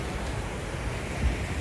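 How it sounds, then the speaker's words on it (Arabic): Sea waves wash ashore in a steady, rushing surf blended with wind noise, continuous and moderately loud throughout. "يا عيني على المي"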